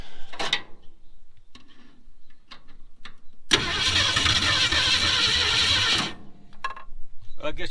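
An old Ford Mustang left abandoned for over 20 years cranks without catching, first in short bursts and then in one sustained grinding crank of about three seconds, with people talking in between.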